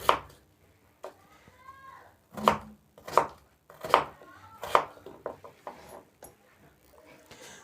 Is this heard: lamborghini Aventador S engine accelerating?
no